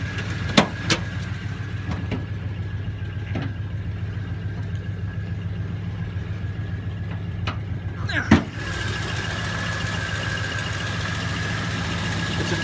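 A 1971 Oldsmobile Cutlass S with a 350 V8, two-barrel Holley carburetor and three-speed automatic idles with a steady low rumble, a few sharp clicks and a brief louder bump partway through, heard up close.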